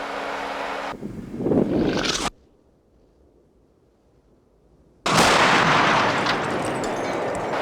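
Artillery firing on a range: a loud, close booming blast with rumbling decay cuts to near silence, then another heavy blast roars and rumbles on.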